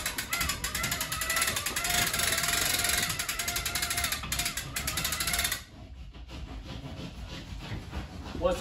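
A Panellift Hangpro Model 150 drywall lift hoists a wall sheet, giving a steady mechanical ratcheting and grinding clatter for several seconds that then drops away to a quieter hum.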